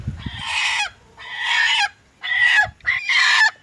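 Four loud, breathy hissing bursts from a nearby broody hen in an uneven sequence, each drawn out and scratchy, separated by brief silences.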